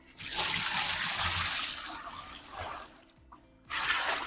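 Cold water gushes and splashes into a container to mix batik dye, in two bursts separated by a short quiet pause, close and moderately loud.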